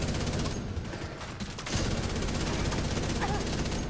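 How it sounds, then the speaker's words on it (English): Rapid gunfire from The Division, a third-person shooter, rattles in a dense continuous stream throughout, with a brief lull midway before the shooting resumes at full intensity. "I keep shooting till dead"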